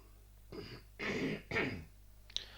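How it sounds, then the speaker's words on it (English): A person clears their throat three times in quick succession, close and fairly loud, followed by a brief small click. "I keep trying to clear my throat and it's just not working"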